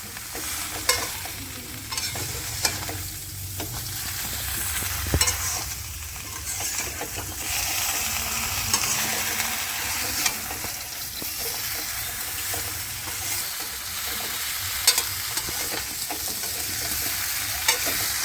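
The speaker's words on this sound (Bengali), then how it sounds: "আমগুলো তেলের সাথে ভালো করে নাড়াচাড়া দিয়ে পাঁচ মিনিট হতে দেবে" Mango pickle is stirred in hot oil in a pan, producing a continuous sizzle with repeated scraping and clattering stir strokes throughout, close and fairly loud.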